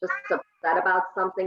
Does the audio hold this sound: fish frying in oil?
no